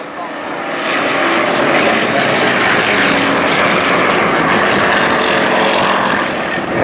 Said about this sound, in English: Now the Yak-18 rolling out on its own.